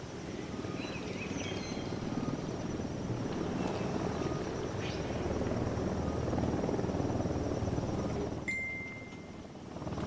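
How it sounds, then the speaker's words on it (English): A helicopter hovers in Ghost Recon Wildlands, a continuous rotor chop and drone holding steady at moderate distance, with faint game sounds on top and a sharp electronic beep near the end. "Helicopter"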